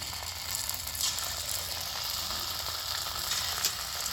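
Leftover-rice kurkure dough dropped into hot oil, a dense hissing sizzle with fine bubbling crackle, steady and close for a few seconds with no voices.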